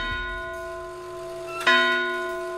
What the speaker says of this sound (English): As the 12th chime of midnight died out